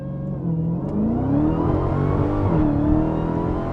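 A Dodge Demon launches hard from a standstill, its engine note climbing loudly and steadily as the car accelerates, with no voices.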